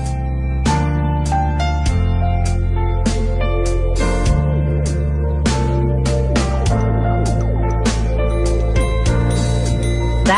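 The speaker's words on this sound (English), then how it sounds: "That's the sound of a minute repeater," A luxury watch's minute repeater chimes the time with a run of bright, ringing metallic strikes, some grouped in quick pairs, each bell-like tone ringing on. The chimes are close and clear with no talk.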